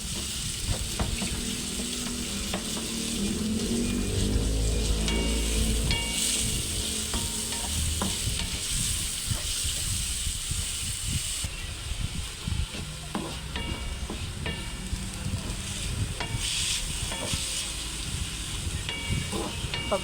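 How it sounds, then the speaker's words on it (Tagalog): Minced pork sautéing in a hot pan for spaghetti sauce, with a steady loud sizzle and hiss and frequent scrapes and clinks of a utensil stirring, continuing throughout without talk. "Yan na ating minced pork. Igisa na rin natin."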